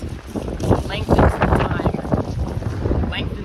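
Gusty wind buffets the microphone with low rumbling and rushing, while a voice talks faintly underneath.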